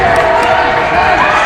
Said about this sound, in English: Crowd the loudest it's been so far from the historic gym